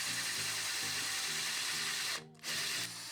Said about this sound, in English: And now we have to drill another hole between the 2 rods.